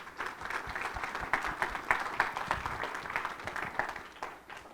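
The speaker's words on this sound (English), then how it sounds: "Let's give them a round of applause." A crowd claps steadily in dense applause for a few seconds, then it tapers off slightly at the end.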